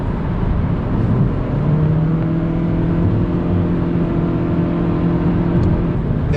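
A Toyota Prius V hybrid car accelerates in power mode with the electric motor and engine working together. The steady, loud drone of engine and road noise is heard from inside the cabin, rising slightly as the car gains speed.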